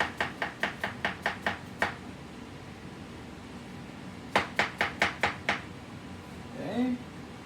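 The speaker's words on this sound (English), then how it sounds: "I'm going to chop a cucumber really tiny" A knife chops cucumber into tiny cubes on a board while gazpacho is prepared, crisp evenly spaced strikes in two quick bursts of about eight each, close and clear, then a brief voice.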